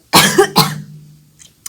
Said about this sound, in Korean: 기침이 왜 나지?